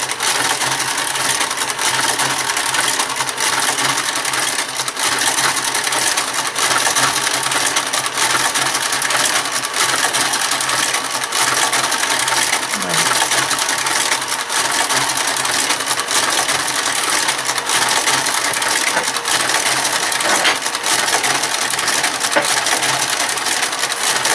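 A Brother KG 93 garter carriage knits across a KH 940 knitting machine in a continuous, dense mechanical clatter that stays close and evenly loud throughout with no talking.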